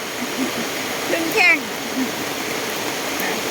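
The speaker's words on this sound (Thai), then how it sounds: "น้ำไหลแรงมากเลย" Heavy floodwater rushing in front of a house after a downpour, a steady loud roar of flowing water, with someone speaking over it and a few brief splashes.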